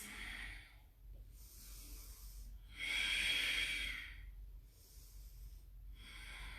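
Slow, deep breaths during a yoga boat pose, three or four long airy inhales and exhales in an even rhythm, close and fairly soft with a hissy edge, no talking.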